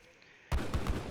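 Musket gunfire and cannon fire from an Age of Empires III 2v2 battle, Lakota against Dutch: near silence suddenly breaks into a loud, dense volley of overlapping shots with several heavy booms thumping underneath.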